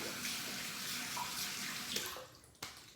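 Water splashes and runs steadily over the face of a workpiece, a close, continuous hissing wash that thins out near the end, with a short sharp knock just after.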